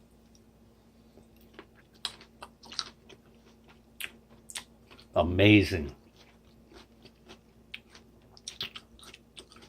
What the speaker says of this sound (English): You can hear it in my mouth. The onions still have their crunch.